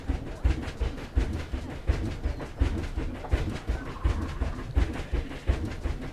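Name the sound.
train arriving at Arctic train station, from video game Planet Zoo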